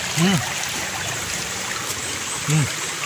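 Steady trickling and flowing water of a cold creek in Upper Lamisahan, Zamboanga City, with brief voices and a short vocal sound rising over it twice.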